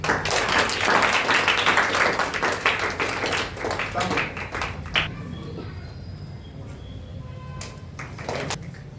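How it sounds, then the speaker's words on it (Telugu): Children at an awareness session clap their hands together in a dense, loud burst that thins out into scattered claps and fades after about five seconds, with a soft room murmur behind. "క్లాప్స్ కొట్టండి."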